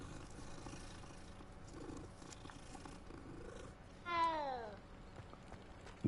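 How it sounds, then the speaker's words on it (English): A cat in Hogwarts Legacy purring softly while being petted, a low continuous rumble, then a single clear rising meow near the end. "I don't know why I'm so obsessed with petting the cats in this game"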